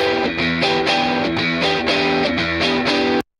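About four layered, distorted electric guitar tracks with different amp tones play a steady rhythmic part together, loud and dense, then cut off abruptly.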